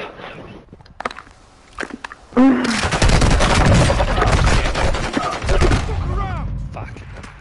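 Rapid bursts of video game gunfire erupt mid-match in a four-player squad game, dense and loud for several seconds, with excited players talking and shouting over and around the shots.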